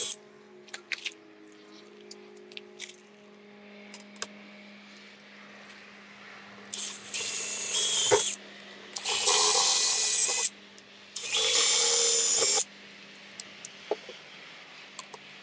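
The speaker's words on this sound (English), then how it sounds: "it's always a little nerve-wracking drilling into obviously an expensive Airstream, but I drilled the 7/32 hole" A power drill bores a 7/32 hole into the aluminum-skinned body of an Airstream trailer in three loud, harsh bursts of a few seconds each, separated by short pauses over a low steady hum.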